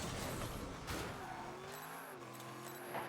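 A car in Rocket League revs and skids across the pitch, tire squeals and engine whine cutting in and out over a short burst, with game sounds layered beneath.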